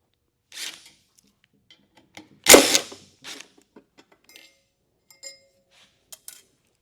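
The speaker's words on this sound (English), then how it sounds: "I'm going to take a few more pictures like I did before" Camera shutter clicks while engine parts are photographed during a teardown, heard as a handful of sharp, isolated clicks with one louder, longer burst in the middle, separated by near silence and no speech.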